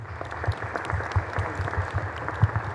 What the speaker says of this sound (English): So could you give her a big round of applause?